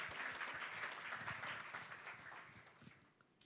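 A church congregation at an Easter service claps and cheers together, a dense steady wash of applause that fades out toward the end, heard at moderate distance.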